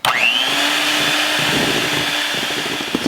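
A kitchen blender whirs loudly and continuously close by as it mixes powdered icing sugar for a coconut butter icing, its motor spinning up at the start, then holding a steady high whine.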